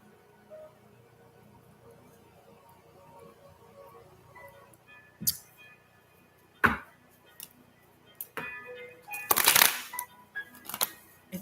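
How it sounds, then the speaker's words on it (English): A deck of tarot cards being shuffled by hand in several bursts of riffling and slapping, close and crisp, separated by quiet pauses, with no talking. "All right, let's shuffle these up good."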